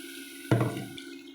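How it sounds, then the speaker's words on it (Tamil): Water splashes briefly into a mixer jar being rinsed in a home kitchen, a short close gush lasting about half a second over a steady background hum. "மிக்ஸி ஜாரை கழுவி அந்த தண்ணியும் ஊற்றிக்கலாம்."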